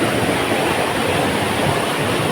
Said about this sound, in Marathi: पाऊस एकदम बेकार पाऊस पडतोय